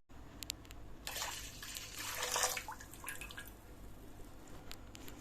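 Vinegar is poured into a kitchen dish while cooking, a soft, fairly quiet splashing stream lasting a couple of seconds and then trailing off into faint drips.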